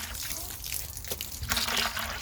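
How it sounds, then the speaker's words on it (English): Water runs from a hose pipe into a container with a soft, continuous splashing and trickling. The sound is fairly quiet and close, and it swells slightly toward the end. "And I pull this hose pipe and just fill it up."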